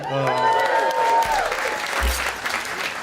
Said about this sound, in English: I don't need your claps.